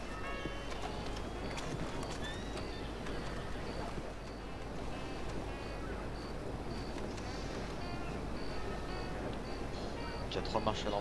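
A horse-drawn cart rolls along in the Western video game Red Dead Redemption 2, soft rhythmic hoof clip-clops and a rumbling wheel bed under faint ambient tones, heard quietly at a distance.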